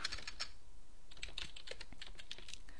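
Someone types a program in Notepad on a computer keyboard, quick irregular clicks of keys at close range, continuous and alone with no voices.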